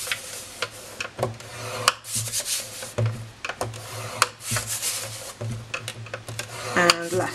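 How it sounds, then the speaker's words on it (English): Cardstock scored on a scoring board at one-inch marks for a partitioned gift box: a run of close, sharp taps, scrapes and small clicks at irregular intervals, no one talking. "we're going to score these at 1 inch on all four sides"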